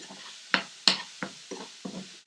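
Minced meat and onions being stirred in a pan, with five distinct scraping stirs at an even, unhurried pace, close and moderately quiet, with soft sizzling between strokes.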